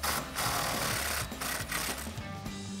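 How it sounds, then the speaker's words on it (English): An impact wrench buzzes steadily to back out a sway bar bolt on a 1994-2004 Mustang during a coil-over install. It is a loud, close, continuous rattling whir with short dips, and no one speaks. "one hand to my impact and get this bolt"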